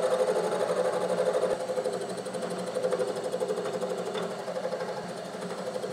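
Milling cutter taking a slow pass across a brazed slot in cast iron, giving a steady buzzing machining sound with rapid rhythmic chatter throughout, fairly loud and close with no talk.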